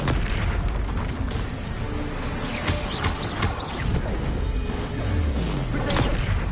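The Bombarda blasting spell from the video game Hogwarts Legacy erupts in booming explosions amid busy combat noise, with several loud bursts and impacts layered over a steady rumble.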